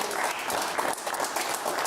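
Studio audience at a talk show gives a short, steady round of applause, a dense wash of clapping held at even loudness throughout.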